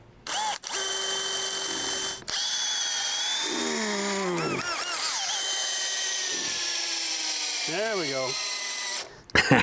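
A power drill bores a hole for a deck bolt, whirring loudly and steadily for several seconds after a brief start, then stopping; someone speaks briefly at the start and his voice surfaces under the motor.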